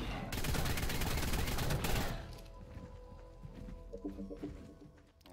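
An assault rifle fires a rapid sustained burst in a tribal survival video game for about two seconds, loud and close, then cuts off to a quieter background with faint scattered game sounds.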